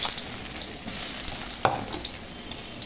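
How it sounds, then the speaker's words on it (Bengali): Chopped onion frying in hot oil over a dried-chili and cumin tempering gives a steady, close sizzling hiss, broken once midway by a sharp clatter of stirring. "পেঁয়াজটা ভেজে নিব"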